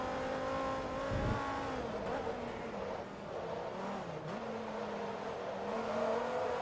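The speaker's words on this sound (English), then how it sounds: "I'm still in awe at how good this car sounds." A racing car engine in the Forza Motorsport 2 video game revs and shifts pitch as it accelerates, with a steady synthetic tone and occasional brief bumps, moderately loud throughout.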